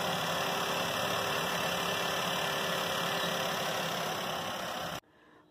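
An old Maruti WagonR engine idles with a steady, even drone that holds for about five seconds before cutting off sharply into near silence. No one talks over it.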